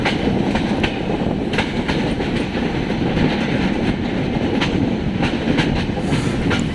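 The Kolkata Agra Weekly Express rolls over the rails on a curve just out of Kolkata station, a steady loud rumble with repeated clickety-clack wheel beats over jointed track, heard from on board with no talk.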